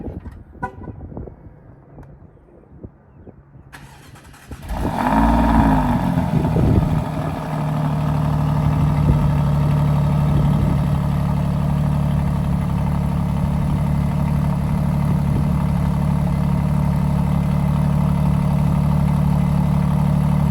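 Quiet shuffling, then an Alfa Romeo Giulia Quadrifoglio engine cranks on a cold start and catches, revving briefly before settling into a steady, slightly high idle that drones on.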